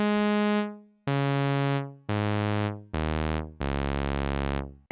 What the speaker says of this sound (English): Now the first waveform by default is a sawtooth,